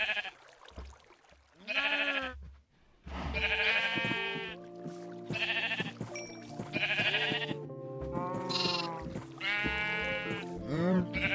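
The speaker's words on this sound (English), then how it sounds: "Let's see if we can get some more sheep." Sheep bleat repeatedly in a Minecraft farm, several wavering baas in a row at close range, with game music and ambient tones running underneath.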